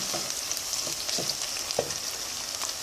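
Something sautés lightly in a pot of olive oil and vegetable oil, with a soft, steady sizzle and a few faint utensil clicks and scrapes, close but quiet.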